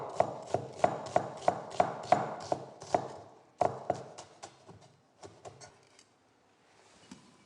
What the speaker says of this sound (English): Roughly chop the onion.